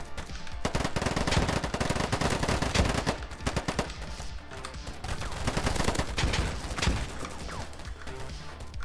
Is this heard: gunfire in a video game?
yes